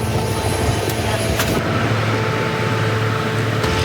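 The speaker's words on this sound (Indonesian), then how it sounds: "Evakuasi menggunakan helikopter Dolphin milik Basarnas dan dilakukan bagi korban yang membutuhkan penanganan medis darurat." A Basarnas Dolphin helicopter runs during an earthquake evacuation in NTT, making a loud, continuous turbine whine and rotor roar that stays steady throughout.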